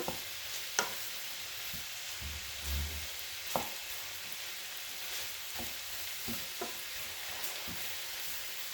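Garlic and onions frying in a pan give a steady, soft sizzle throughout, with a few light clicks and stirs popping out over the hiss.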